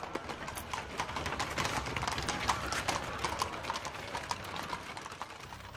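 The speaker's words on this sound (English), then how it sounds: "Only then would the horses move on." Horses' hooves clip-clop in a steady walking rhythm, moderately close, layered with many overlapping hoof strikes and a low rumbling background throughout.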